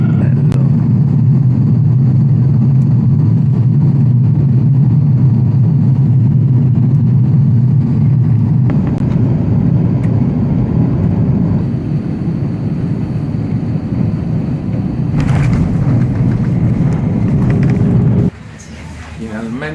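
Heard from inside the cabin, an airliner arriving in Japan roars steadily with a deep engine drone, shifting in tone partway through as it lands, while voices and announcements sound over the noise.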